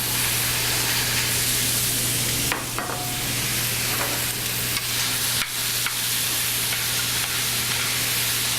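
Vegetables tumble into a hot braising pan beside browned meat, setting off a loud continuous sizzle with a few stirring scrapes and clicks over a steady hum.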